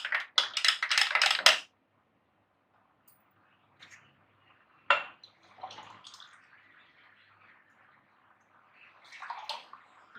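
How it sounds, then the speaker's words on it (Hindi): Cold water gushes into a glass for a kaccha kairi sharbat in one strong pour of about a second and a half, then a few faint clinks and light trickling sounds follow in an otherwise quiet kitchen. "अब मैं इसमें शामिल करूँगी ठंडा पानी और ये जो गिलास है, गिलास में निकाल लूँगी।"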